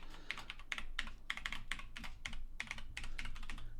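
Rapid, steady typing on a loud computer keyboard while someone enters a password, close and clear, with clustered keystrokes over a low background hum and no speech.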